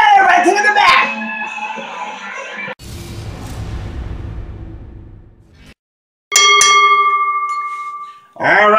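A wrestling ring bell rings at a live professional wrestling show, with sharp metallic strikes that ring out and decay amid crowd noise and voices.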